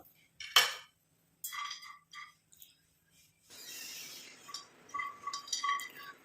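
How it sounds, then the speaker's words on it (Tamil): Ten almonds dropped into an iron kadai on a stove: a sharp clink of nuts hitting the pan, then a few lighter rattles and a soft sizzle that fades in at the end. "நம்ம எடுத்து வச்சுருக்க இந்த பத்து பாதாமும் உள்ளே ஆட் பண்ணிக்கலாம்"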